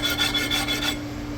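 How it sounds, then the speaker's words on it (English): Deburring the edges of big block Chevy connecting rods, close rasping strokes in a quick, even rhythm of about five scrapes that stop partway, leaving a steady low hum. "What I'm doing here is just deburring the edges before I cut them in my cap cutter."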